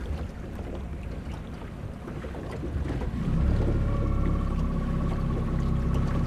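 Small fishing boat engine out on the Atlantic, a low steady drone that swells louder partway through and settles into a constant hum with a faint tonal whine, mixed with wind and water wash.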